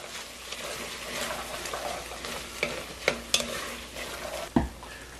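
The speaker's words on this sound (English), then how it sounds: "Let's mix this together." A spoon stirs thyme and a bay leaf through a chowder base in a pot, a low, steady sizzle with soft scraping, then a few distinct knocks and clinks of the utensil toward the end.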